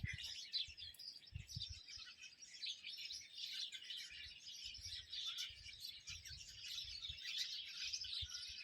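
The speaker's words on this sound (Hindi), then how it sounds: "उस पे इतनी चिड़िया की चहकने की आवाज़ आ रही है" Many small birds chirp and twitter continuously in an orange tree in a village, bright, overlapping calls, with no voices present.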